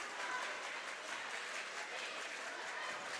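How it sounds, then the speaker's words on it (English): Basketball crowd in a high-school gym at Lower Cape May roars steadily, a dense wash of clapping and cheering that stays loud and even throughout. "Crowd coming back alive here"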